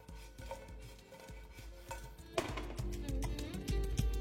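Bread pieces being tossed and stirred in a pan over high flame while toasting for bread upma: soft scraping and clattering of the utensil against the pan, quiet at first, then busier and louder toward the end.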